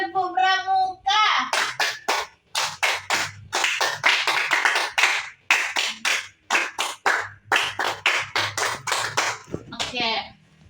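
Scouts perform a rhythmic scout clap, two rounds of sharp, close, crisp group claps in patterned bursts with short pauses between them, preceded by a brief call.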